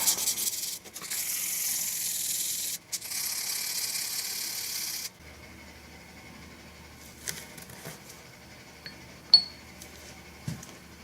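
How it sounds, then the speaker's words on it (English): Hand sanding with 1000 grit sandpaper polishes a BMW R65 brake caliper: steady, soft rasping strokes for about five seconds with one short break, then quiet handling with a few small taps. "Alright, 1000 grit sandpaper. See if you can polish this up"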